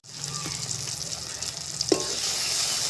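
Tomatoes fry in a hot pan for a chicken dish with a continuous bright sizzle, punctuated by a sharp spoon clink near the two-second mark.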